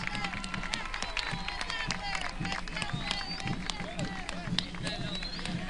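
A large political rally crowd in Santiago del Estero, Argentina, claps and cheers in a dense, steady roar, with shouts and voices rising through the noise for the whole stretch.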